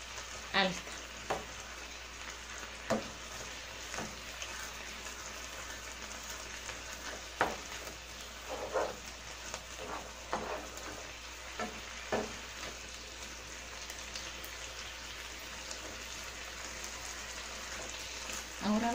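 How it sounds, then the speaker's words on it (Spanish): Beef steak frying in a pan over high flame, a steady loud sizzle with occasional pops and crackles over about twenty seconds, no talking. "Yo tengo el bistec a flama alta."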